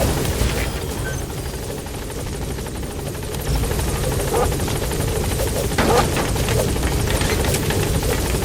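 The Pequod helicopter from Metal Gear Solid V: The Phantom Pain arriving at a landing zone, a loud, steady rotor thump and engine drone that swells slightly as it nears, with faint game sounds underneath.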